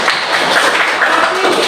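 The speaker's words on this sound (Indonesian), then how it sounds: "Ya, mari kita tepuk tangan" A classroom of students claps hands together, a dense, loud wash of applause lasting under two seconds.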